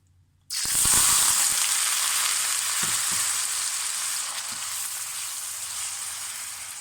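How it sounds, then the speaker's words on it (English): A sudden loud sizzle bursts in as wet onions hit hot oil in a wok, then settles into a sustained, crackling hiss that slowly fades slightly. "These onions are quite wet, so this is going to sizzle."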